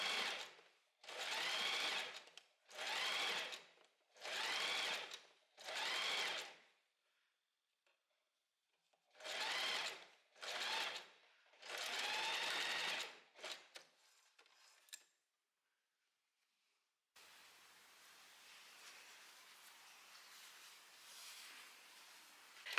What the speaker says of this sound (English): you want to sew the seam allowance onto the back facing